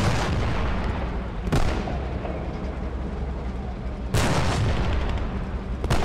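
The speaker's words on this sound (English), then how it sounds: "The Panzer is engaging the tank from a lower position, but is scoring hits." Panzer tank cannon fire in the Post Scriptum war game, with two loud booming shots about two and a half seconds apart, each followed by a rolling rumble over continuous low battlefield noise.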